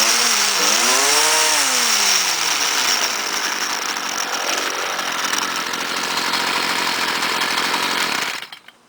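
A Stihl string trimmer's small two-stroke engine runs loud and close at high revs, with a brief rising and falling throttle at the start, then holds a steady whine before cutting off abruptly near the end.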